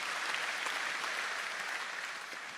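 Audience at the Ohio State Fair Sale of Champions livestock auction giving a round of applause, a continuous, moderately loud spread of clapping across the whole moment.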